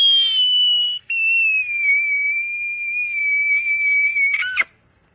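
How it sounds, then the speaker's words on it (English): A child screams in a long, piercing, high-pitched sustained tone, loud and close, holding steady for several seconds with a brief break near the start before cutting off abruptly. "Okay, no more screaming."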